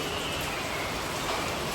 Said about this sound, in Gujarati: અત્યારે વરસાદ પણ ચાલુ થયો છે.